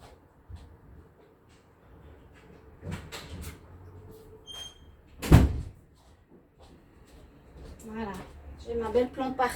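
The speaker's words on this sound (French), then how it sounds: "je vais juste fermer la porte." A door being shut indoors, one sharp thud partway through, surrounded by soft handling noises and someone talking in French before and after.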